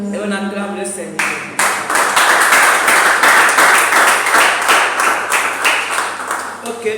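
A church congregation claps in praise of the Lord, loud rhythmic clapping that starts after a sung or spoken line and continues steadily with dense, crowded hand claps.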